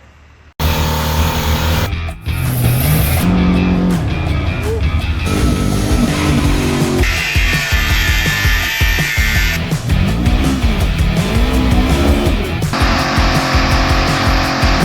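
A 2001 GMC Sierra 2500 single-cab pickup with the 8.1 Vortec big-block V8 starts abruptly and runs loud and close, revving up and down in repeated swells over a constant rough roar.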